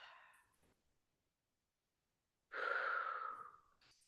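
A single deep breath during a somatics exercise: a soft inhale at the start, a pause of silence, then a long, clear exhale close to the listener.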